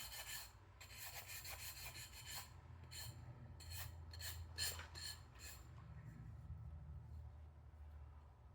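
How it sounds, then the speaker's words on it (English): Coasters get filed down by hand with 100 and 180 grit files, producing quick rhythmic rasping strokes in close, moderate bursts over a low background hum. "I have just 100 and 180 grit filing. We're just going to file these down here."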